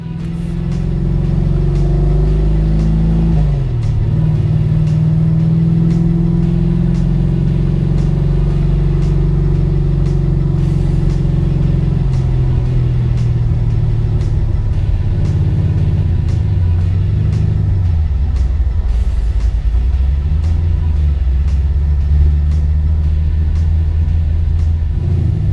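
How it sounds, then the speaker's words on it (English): A Chevrolet Chevelle's engine rumbles steadily while cruising city streets in St. Pete, a loud continuous low drone with shifting pitch as the car accelerates and eases off, no talking. "Today we'll spend time cruising the streets of St. Pete with Brian in his Chevelle"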